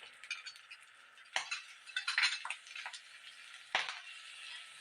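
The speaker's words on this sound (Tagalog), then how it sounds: "Ayan, ilagay natin yung ating garlic." Garlic dropped into a hot pan for a liempo and cola dish, bursting into a sharp, bright sizzle in several surges, with utensil clinks and scraping as it is stirred.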